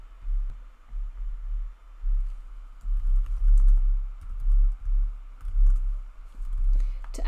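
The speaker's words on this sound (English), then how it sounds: "you just wanna go through each of these fields and just type in all of the product information" Someone types on a computer keyboard with quick, soft key clicks in bursts and short pauses, close and fairly quiet, with no speech.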